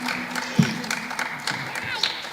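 Audience applause rising in a room, a moderate spread of clapping hands with voices talking over and around it.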